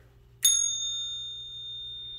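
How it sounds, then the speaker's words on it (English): A small handheld bell is struck once in a quiet room, giving a bright ringing tone that rings on clearly and fades only slowly. "Well, I have this little bell here."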